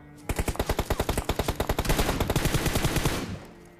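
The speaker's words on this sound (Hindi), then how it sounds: "अब मैं यहाँ पे प्रोन फायर देने वाला था" Rapid automatic gunfire from a player firing while prone in the battle royale game PUBG Mobile, a loud, evenly spaced volley of about twenty shots that ends with a short decaying tail.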